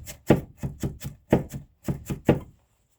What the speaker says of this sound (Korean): 양파를 잘 다진 후에는 다음엔 부추를 다질 거예요.